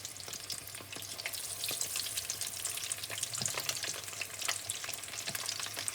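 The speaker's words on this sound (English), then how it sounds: "Here I have the prawn that's about to be fried." Prawns sizzle and crackle steadily in hot oil for butter prawn, a dense continuous fry with scattered pops, close and alone without talk.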